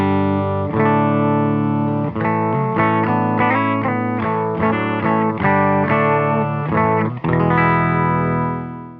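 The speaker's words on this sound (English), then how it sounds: "Silktone amp sounds like this." A distorted electric guitar plays a chord-based riff through a Silktone amp, loud and close, with chugging rhythmic strums and sustained chords ringing out.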